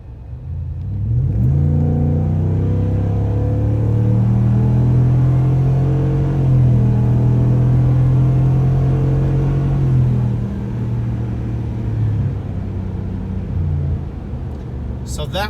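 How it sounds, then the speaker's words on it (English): A 2023 Ford F-250 with the 7.3-litre Godzilla V8 and Ford Performance exhaust is revved for several seconds on a private road: a deep, loud rumble that swells after a quick blip, holds strong, then settles back to idle. "I will punch the throttle so you can hear it."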